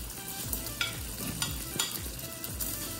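Prawns simmer in a creamy tomato sauce in a pan, a soft sizzle and bubbling broken by repeated scraping stirs of a utensil every half second or so, close and fairly quiet, no talking.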